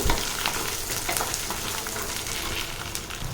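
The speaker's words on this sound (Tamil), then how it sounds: "சின்ன வெங்காயம் நல்லா வதங்கட்டும்" Steady sizzling and crackling of shallots sautéing in a hot pan, continuous and close, with faint stirring scrapes and no voices.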